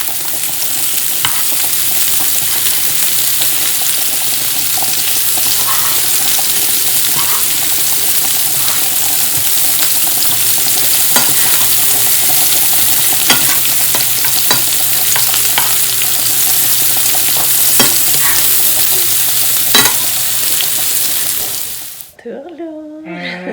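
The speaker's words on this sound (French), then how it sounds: "Je vais les faire revenir dans le beurre." Meatballs fry in butter in a pan, a steady broadband sizzle running continuously at close range for most of the stretch before cutting off near the end, with occasional clinks and stirring sounds over it.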